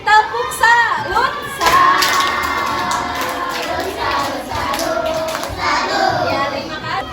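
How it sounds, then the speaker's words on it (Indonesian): A primary school class does a 'tepuk salut' clapping routine during a fractions lesson: children's chanting voices and shouts ride over steady rhythmic hand claps and thumps, filling the room for about seven seconds. "Sekarang kita kasih tepuk salut"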